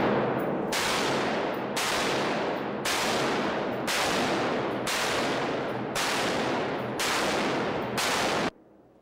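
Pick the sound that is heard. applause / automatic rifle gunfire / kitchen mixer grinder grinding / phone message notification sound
automatic rifle gunfire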